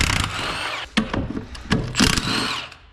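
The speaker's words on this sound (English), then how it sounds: "we'll take our case bolts out" Power tool or impact driver backing out the case bolts on an NP243C transfer case, bursts of whirring and ratcheting close by with short pauses between bolts, no talking.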